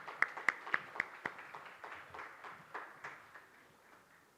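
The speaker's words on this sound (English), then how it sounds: "So a big round of applause for women entrepreneurship." Sparse clapping from an audience at an entrepreneurship event honoring women entrepreneurs, a handful of sharp distinct claps at first, then a thinning, fading patter of scattered hands, quiet and somewhat distant.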